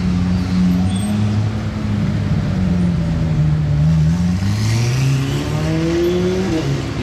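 Sports cars including Ferraris pass in a steady parade at the Monaco Grand Prix, engines droning and rising in pitch as they accelerate, loud and continuous with layered exhausts.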